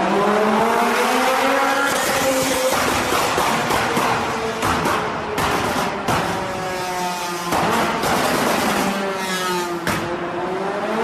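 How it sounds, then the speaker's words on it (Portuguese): A Ferrari 458 GT3 race car roars loudly and close, its engine climbing and falling repeatedly through rapid gear changes with sharp revving surges and no voices. "que ronco magnífico, né, mano? Ferrari 458."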